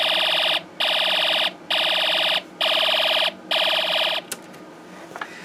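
An electronic alarm tone from a Snap Circuits kit speaker, driven by an alarm IC, beeps in five long, even pulses with short gaps, loud and shrill, then stops, leaving faint clicks.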